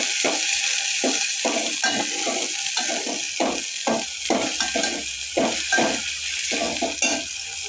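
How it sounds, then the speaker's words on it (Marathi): Chana dal sizzles as it is sautéed in a pan for a Marathi spinach dish, with a steady fry hiss and repeated scraping and clinking of a spoon stirring against the pan at close range. "आता हे परतू घेते याला."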